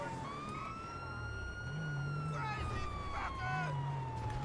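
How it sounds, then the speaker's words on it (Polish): A police car siren wails in GTA V, played with the LSPDFR police mod, rising and falling in long, steady sweeps over a low engine rumble throughout. "Nie wiem, czy ja mogę teraz włączyć syreny, ale włączę syreny"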